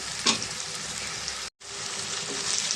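Crushed garlic and cumin fry in a covered pan, giving a steady broadband sizzle with a brief louder burst near the start and a sudden short dropout midway before the crackle resumes.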